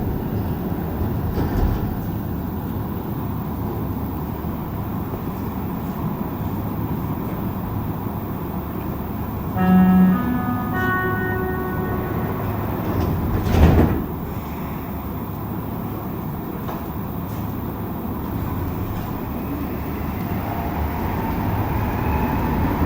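Steady low rumble of a subway car in motion on the Green Line metro from Berri-UQAM toward Charlevoix, with a brief rising tonal whine and a sharp clatter midway, no talking.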